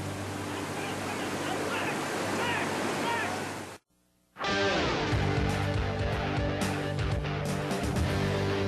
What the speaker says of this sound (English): Big white water.